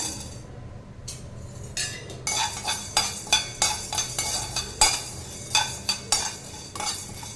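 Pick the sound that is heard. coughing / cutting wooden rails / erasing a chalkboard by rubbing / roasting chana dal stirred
roasting chana dal stirred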